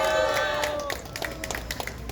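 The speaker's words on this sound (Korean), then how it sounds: "경찰 여러분께 박수 한번 부탁드립니다." A rally crowd gathered outdoors on a rainy day applauds the police, the clapping rising in short bursts after a voice fades, moderately close and uneven.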